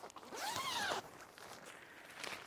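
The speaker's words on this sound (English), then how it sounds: "Zippers on both sides. Just kind of go up with this." A zipper on a pop-up tent window is pulled in one smooth, rising sweep lasting about a second, close and clear, followed by quiet fabric rustling.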